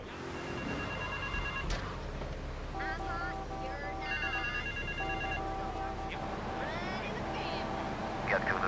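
A GTA 3 payphone in a city park rings in repeated electronic bursts, fairly close, over constant traffic rumble and street noise, while a voice talks intermittently.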